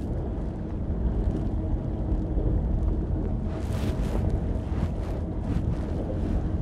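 Steady wind buffets a small fishing boat on a Norwegian fjord, a constant loud rushing roar with gusty swells and microphone buffeting, and no talk.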